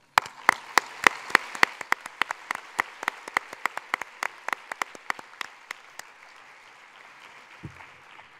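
Sparse applause at a UN conference closing ceremony, a few distinct hand claps ringing out in a steady rhythm in a large hall, tapering off after several seconds into quiet.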